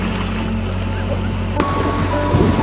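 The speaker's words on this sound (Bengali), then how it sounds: "কত বড় ঢেউ, কত বড়।" Big ocean waves surge and break at Cox's Bazar beach in Bangladesh, a loud continuous roar of surf with heavy wind buffeting the microphone throughout.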